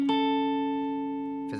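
A guitar note picked and sustained cleanly for over a second as part of a hammer-on phrase from a funk song lesson, with a fresh attack right at the end. Close, steady and alone.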